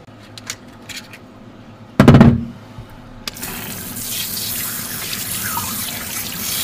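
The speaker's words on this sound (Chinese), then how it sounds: "首先给鲍鱼清洗一下" Abalone are washed under a running kitchen tap. A few light knocks and a brief loud splash come first, then a steady stream of water pours and splashes to the end.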